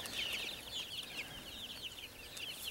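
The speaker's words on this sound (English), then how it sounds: "Got my new chickens here, little chicks," Young chicks in a backyard flock giving a stream of faint, high-pitched peeping chirps, quick and overlapping over low background noise.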